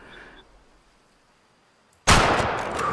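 A single loud rifle shot from the hunting video game Way of the Hunter bursts out abruptly after a near-silent pause, then decays in a long rolling echo.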